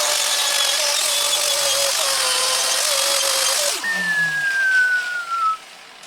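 Bench buffing wheel polishing a welded stainless steel piece with compound, a steady loud whine that runs alone and then winds down, its pitch sliding as the motor spins to a stop.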